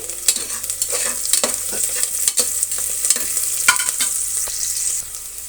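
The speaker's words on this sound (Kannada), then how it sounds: "ಈರುಳ್ಳಿ ಸ್ವಲ್ಪ ಫ್ರೈ ಆಗಲಿ ತುಂಬ ಏನು ಬೇಕಾಗಿಲ್ಲ ಒಂದು ನಿಮಿಷ ಫ್ರೈ ಆದರೆ ಸಾಕು" Onions and curry leaves for vegetable biryani fry in hot oil. A continuous close sizzle is broken by frequent quick spatula stirs and scrapes, and no one speaks.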